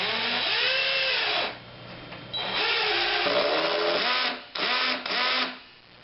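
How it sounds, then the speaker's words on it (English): Cordless drill on its screw setting with torque at 1 driving a screw into wood, whirring in several short bursts that stop and restart as the clutch engages and slips, close and clear. "let's try to fasten this screw with the drill set to the screw setting and the torque set to 1"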